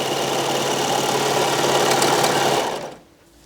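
A Baby Lock serger stitching fabric whirs in a fast, steady buzz for nearly three seconds, then stops abruptly, leaving quiet room tone.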